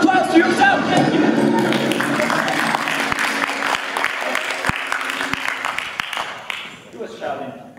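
An audience at a science slam on space radiation claps and cheers for itself after a countdown, loud dense applause with shouts at first, tapering into scattered claps and a few voices toward the end.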